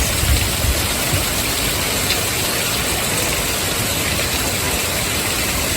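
Heavy rain pours down steadily, a dense loud hiss with no break.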